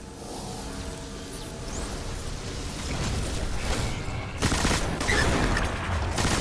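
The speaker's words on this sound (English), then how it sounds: "Oh, the recoil on this machine gun is very extreme." Sustained machine gun fire in the video game Destiny, a dense continuous rattle of rapid shots that grows louder and more intense toward the end, with no talk over it.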